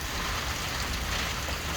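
Heavy downpour in a Polish village, a loud, dense, unbroken hiss of rain pouring steadily with no voices.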